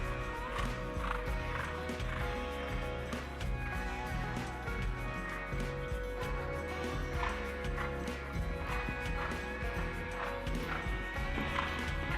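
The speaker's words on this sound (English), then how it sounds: "Again, a relatively young horse, just 7 years of age." Seven-year-old show jumper on a 1.25 m open course, hooves clip-clopping in rhythm with occasional neighing, blended into constant arena ambience under faint commentary.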